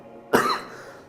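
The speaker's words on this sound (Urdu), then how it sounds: "اصل کھانسی ہے مجھے تھوڑی، اس لیے ویڈیو میں ڈسٹربنس ہو رہا ہے" A man gives a single sharp cough, close and loud, that breaks abruptly from a quiet background and trails off over about half a second.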